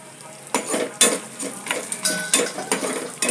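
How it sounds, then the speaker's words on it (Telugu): Dried red chillies and raw rice frying in a kadai, scraped and stirred with a metal spatula: repeated loud sizzling bursts and clatters roughly every half second, close up, with no voices. "ఎండుమిరపకాయలు ఇవన్నీ కూడా ఎత్తి బాండిలో ఇలా వేసి వేయించాలి."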